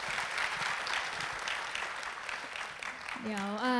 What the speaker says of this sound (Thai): ขอเสียงปรบมือให้กับทั้ง3ท่านด้วยนะครับ